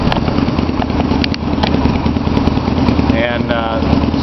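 A Yamaha V Star 250 motorcycle fitted with a West Eagle exhaust runs steadily at idle, a low continuous engine rumble close to the microphone, with someone talking over it throughout.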